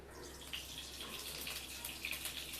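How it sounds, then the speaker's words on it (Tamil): Cooking oil poured into a hot kadai makes a soft, continuous liquid trickle with light sizzle, faint and steady throughout, with no talking. "இப்போ நம்ம தேவையான அளவுக்கு எண்ணெய் ஊற்றிக்கலாம்"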